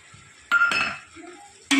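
A utensil stirs tomatoes and potatoes in a cooking pot, giving a couple of short scraping, clinking bursts against the metal with quieter gaps between.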